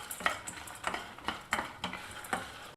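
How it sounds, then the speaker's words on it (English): Chana dal, dry red chilies and sesame seeds roasting in a pan over a low flame, a spatula stirring them in four or five regular scraping strokes with a soft dry rattle and faint sizzle close by. "Roast everything on a low flame so that the masalas don't get burnt."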